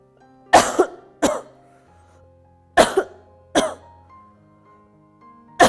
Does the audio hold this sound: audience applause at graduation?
no